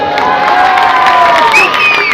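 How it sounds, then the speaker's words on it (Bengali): A crowd at an outdoor stage show in Poradah, Kushtia cheers loudly, with shouts and whoops rising over a steady roar for about two seconds, including a high whistle or whoop near the end; no clear speech. "তার জন্য একটা করতালি হবে"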